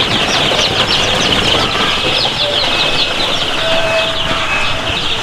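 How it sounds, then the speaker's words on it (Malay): Village chicken chicks in a commercial coop, startled, make a dense steady flurry of wing flapping and high peeping throughout, loud and close. "inilah rupa anak ayam asli"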